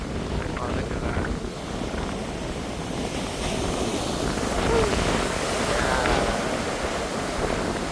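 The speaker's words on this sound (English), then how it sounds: "the cool wind feels so good" Steady wind rushing past the microphone at an ocean pier, with surf washing below, a continuous breezy roar throughout and voices faintly in the background.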